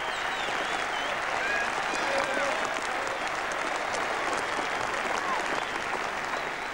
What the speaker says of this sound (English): applaud him all the way in, a reception he so thoroughly deserves